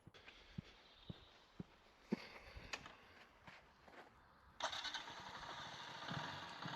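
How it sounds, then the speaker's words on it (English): A motorcycle starts up during a beginner rider's practice session, with faint clicks and rattles before the engine catches and settles into a steady hum, heard from some distance and fairly quiet. "she started the bike"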